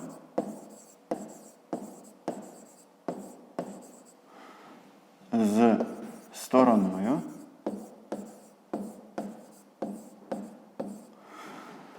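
Pen or chalk writing while a Grade 5 math exercise is worked through, a rhythmic series of short scratchy strokes about once a second, close and clear, pausing while someone speaks.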